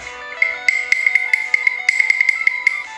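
A wooden cattle bell clonks over and over in a quick, uneven rhythm, each hollow knock ringing with the same resonant pitch, loud and close.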